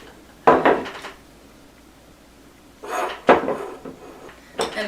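A glass jar sealed for storing onion greens is handled, giving a few short clinks and knocks spaced apart, close and fairly quiet with no talk.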